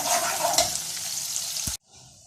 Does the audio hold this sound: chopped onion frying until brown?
yes